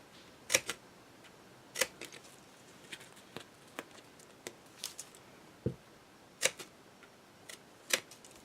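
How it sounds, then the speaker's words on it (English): Scissors snipping little triangles out of a cardboard box, sparse sharp clicks and cuts spaced irregularly over a quiet background, some louder than others, close by and with no voices. "We're going to cut little triangles out."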